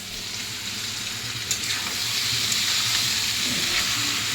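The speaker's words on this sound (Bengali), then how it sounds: "কাঁচা লঙ্কা লবণ দিয়ে ভাজবো" Eggplant fries with green chili and salt in a pan, giving a steady, close, hissing sizzle that swells slightly over time, with a faint stirring scrape.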